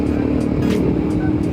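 Kawasaki Ninja 250 RR Mono SL motorcycle engine droning steadily throughout on a Sunday morning group ride, a continuous close hum with slight fluctuations and no speech over it.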